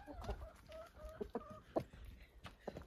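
Chickens cluck and murmur softly nearby in short, scattered calls, with a quiet background and no talking.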